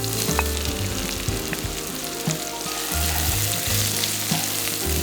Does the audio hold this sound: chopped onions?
yes